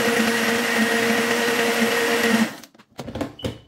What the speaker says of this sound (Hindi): अभी मैं इसको और जो है थोड़ा ब्लेंड कर लूंगी, क्योंकि आइस क्यूब्स जो हैं वो इसमें अच्छे तरीके से क्रश होने चाहिए।